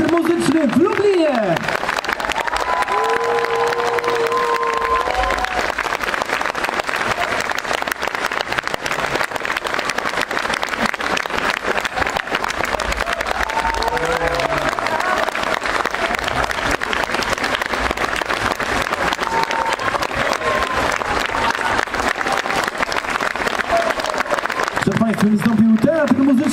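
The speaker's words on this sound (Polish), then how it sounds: "teraz wielkie brawa, Teatr Muzyczny w Lublinie!" Audience at a Lublin musical theatre performance during a culture night event claps and cheers in a long, loud, dense wave of applause, with crowd voices mixed in throughout.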